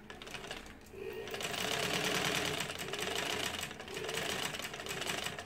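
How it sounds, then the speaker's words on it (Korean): An old Daewoo dress sewing machine runs test stitches after repair, its rapid mechanical clatter rising and falling in two long bursts with a short pause between, close and fairly quiet. "수리를 마치고 시험 바느질을 지금 해보는 영상입니다."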